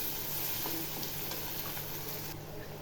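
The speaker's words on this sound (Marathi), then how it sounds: "आता वरून थोडीशी मी कोथिंबीर टाकते कोथिंबीर ही चांगली अशी तेलामध्ये परतून घ्यायची" Chopped coriander fries in hot oil in a pan for besan zunka, a steady close sizzle that stays even throughout, with no talk.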